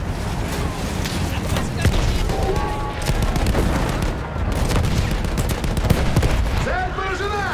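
Machine gun fire and battlefield gunfire in the video game Battlefield 1, dense and continuous bursts with booming explosions throughout, with voices shouting over the combat.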